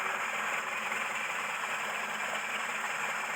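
A Mercedes W115 engine, not started in three years and now with a non-charging alternator, idles steadily with a constant mid-range hum and light mechanical clatter, close by and alone.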